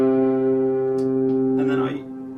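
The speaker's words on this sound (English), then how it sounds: "you can freeze the reverb by stomping on the button" A single electric guitar note rings out through an effects pedal whose reverb is frozen, a held buzzy tone with a steady sustained wash that fades after about two seconds, while someone talks over it.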